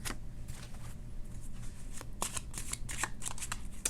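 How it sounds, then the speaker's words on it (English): Tarot cards being shuffled and pulled from the deck, a steady run of crisp papery riffles and snaps, close and alone. "Let me pull a couple more cards here."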